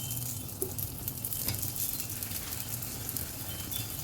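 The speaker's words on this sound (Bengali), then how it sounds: "ওপর থেকে আমি সামান্য একটু তেল ছড়িয়ে দেবো" Wheat flour flatbread fries in a pan with a little oil spread over the top, giving a continuous soft sizzle with faint crackles throughout, close and without speech.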